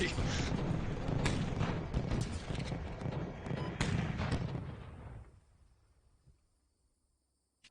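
Artillery fire in the Steel Beasts Pro PE tank simulator booms in a dense, rumbling barrage with sharp blasts. It gradually thins and fades toward near silence before one last faint thump.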